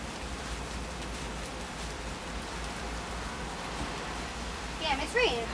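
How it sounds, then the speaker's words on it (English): Heavy rain falling outdoors on a balcony, a dense steady hiss that runs throughout, with a brief voice near the end. "it's raining hard right now"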